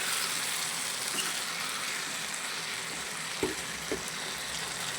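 Tomato pieces frying in a pan for a brinjal and dry fish curry, a steady close sizzle with a couple of soft clinks or stirs near the end.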